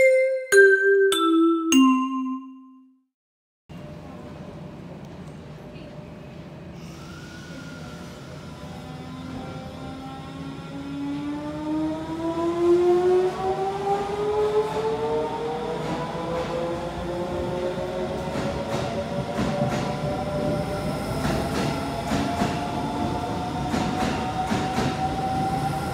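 A Shin-Keisei Line train, one of the line's newest cars, pulls away with a rising electric motor whine climbing steadily in pitch over a continuous rumble and faint rail clatter, heard loud and close from on board.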